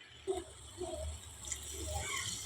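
Water is poured into a pot of crab gravy, a soft steady trickle and splash heard close and continuous over a low background hum.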